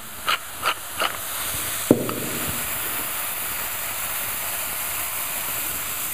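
Seasoned ground-meat patties dropped into a hot frying pan, a few soft taps and then a sudden burst of sizzling that settles into a steady, close, continuous hiss, with no talking.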